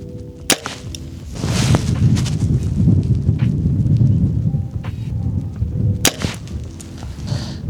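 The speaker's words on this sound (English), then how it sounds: "we shot a few times showing you the proper placement" A bow is shot outdoors by an archer, giving sharp close snaps of the string at about 0.5 and 6 seconds over a steady rushing wind-like background noise.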